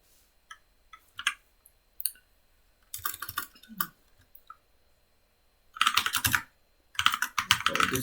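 Computer keyboard typing comes in irregular bursts, first a few scattered keystrokes, then quick dense runs of clicks, close and crisp, with no talk.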